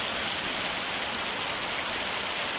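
Hail pelts down steadily on a farm in Farming Simulator 25, a dense, even hiss of pattering impacts filling the whole stretch with no pauses or voices.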